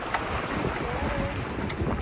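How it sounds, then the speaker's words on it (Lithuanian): Wind rushes steadily over a sailboat on open water, a broad, constant roar buffeting the microphone with faint splashes mixed in. "Bet vėjo jau dabar yra, ne? Vėjo taip visai neblogai."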